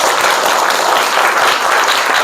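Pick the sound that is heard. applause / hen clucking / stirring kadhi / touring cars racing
applause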